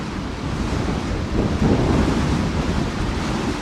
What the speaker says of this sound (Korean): 거센 바람이 불어닥치는 제주특별자치도